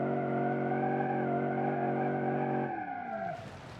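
Car in a racing video game oversteering, its engine holding a loud steady drone before dropping off as the tires break into a squealing skid near the end.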